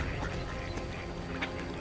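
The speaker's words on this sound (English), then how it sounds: "Have you ever just sat and watched ducks?" Ducks quack at a pond, their calls mixed into a constant, noisy outdoor background.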